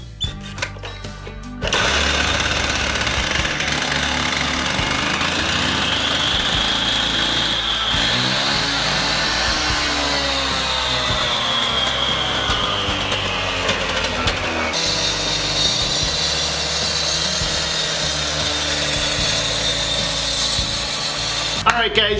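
A concrete saw's engine, unused for six months, catches after a brief rattle and then roars continuously at a loud, steady pitch, a harsh close-up drone that fills the rest of the clip.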